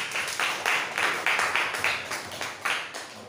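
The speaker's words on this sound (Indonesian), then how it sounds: "Tepuk tangan untuk kelompok Matius." A school class claps for a presenting group: rhythmic bursts of hand claps in a regular beat, fairly close and moderately loud, with no talking.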